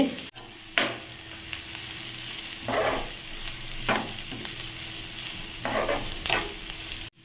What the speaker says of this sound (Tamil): நமக்கு நல்லா வெங்காயம் பொன்னிறமாக நல்லா வதங்கிருச்சு